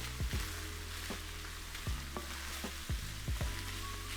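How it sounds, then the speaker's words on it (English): Steady, dense sizzling of minced beef frying with onions and peppers in a pan, with occasional scrapes and clinks of a utensil stirring. "while that minced beef is frying with the onions and the peppers"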